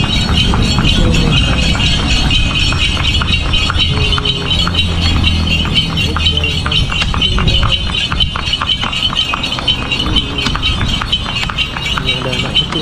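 A horse pulling a delman cart on a morning ride in Bantaeng, South Sulawesi, its hooves clopping in a steady, quick rhythm over a rattling carriage, with voices murmuring throughout.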